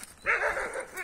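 An old dog with sores on its legs lets out a short whining whimper that rises into a soft yelp, heard once at close range and fairly quiet.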